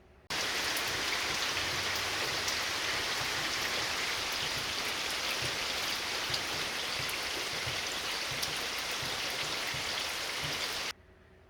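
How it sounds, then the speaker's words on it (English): Pouring rain hisses in a steady, dense wash, close and continuous from start to finish, with no voices. "Pouring rain."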